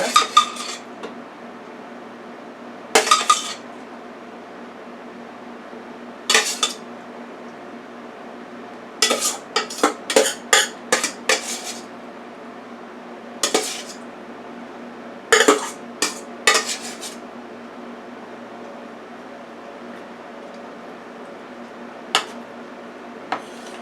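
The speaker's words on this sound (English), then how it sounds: "Now I'm going to add the balance of the hamburger." A spoon scraping and clinking against a pan while the remaining hamburger meat is spooned onto a lasagna: irregular bursts of metallic clatter, sometimes in quick clusters, separated by quiet pauses.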